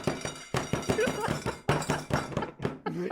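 Steps thumping on a homemade DDR dance pad inside a house, a quick run of heavy, booming thuds in a fast uneven rhythm, loud and close, with no talk over them.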